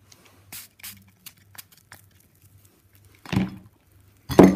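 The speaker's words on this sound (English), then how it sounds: "now let's spray the banana juice" Banana juice candy spray is squirted in two short, close hissing bursts near the end, after a few faint taps and rustles in a quiet room.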